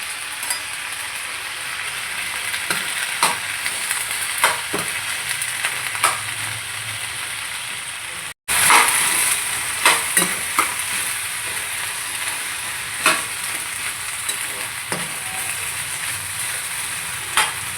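Fenugreek seeds with brinjal and tomato pieces frying in oil in a pan, a steady close sizzle broken by repeated scrapes and clicks of stirring, with a brief cut midway.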